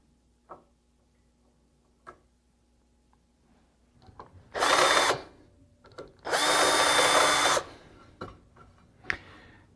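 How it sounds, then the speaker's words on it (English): Power drill boring holes into a router base plate, two bursts of loud whirring, the second longer, separated and surrounded by scattered sharp clicks and taps of handling the tool and workpiece. "After you drill those holes, you want to countersink them"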